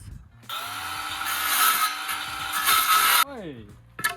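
A power saw whines loudly through wood for a few seconds while fixing a sportsboat's interior, then spins down with a falling pitch, followed by a brief clatter.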